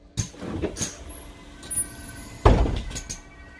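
Doors on a Mercedes O530 articulated bus open and close with pneumatic hisses and a sharp, loud clunk near the end, heard up close over a low idle.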